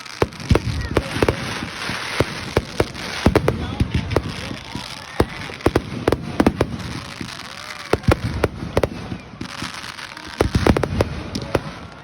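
Dense crackling and popping fireworks, with sharp bangs scattered irregularly over a continuous fizzing rumble, fairly close and loud.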